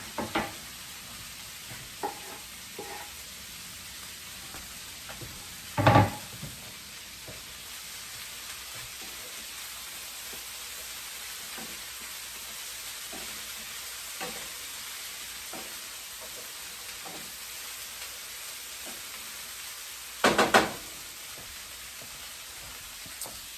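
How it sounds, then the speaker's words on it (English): Garlic and ginger sizzle steadily in a hot pan, a low continuous frying hiss with a few sharp clanks of stirring, two of them louder, and no voices. "Now is a good time to add that garlic and ginger."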